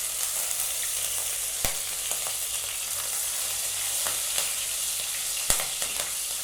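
Ginger and green chili sizzle in hot oil in a pan, a steady dense crackle with occasional sharp pops and stirring clicks, close and uninterrupted.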